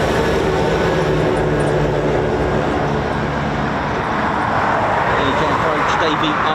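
A Eurofighter Typhoon FGR4 jet engine spools up at RAF Coningsby, a dense, loud, continuous roar that holds throughout and grows slightly brighter toward the end.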